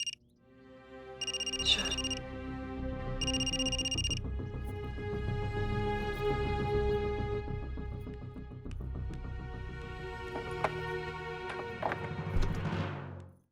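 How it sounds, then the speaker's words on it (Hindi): A phone ringtone plays as a melodic tune with repeated beeping tones, moderately loud and steady for several seconds. "सॉरी, मेरे पापा का फोन है।"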